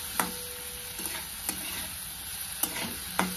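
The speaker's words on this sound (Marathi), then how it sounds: "बटाटा आपल्याला अगोदर ह्यात मिक्स करून घ्यायचा तेलामध्ये" Chopped potatoes stirred into hot oil with frying chilies and turmeric, a steady sizzle under a few sharp scraping clinks of the spoon against the pan, close and fairly loud.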